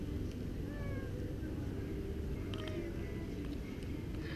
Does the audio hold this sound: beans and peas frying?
no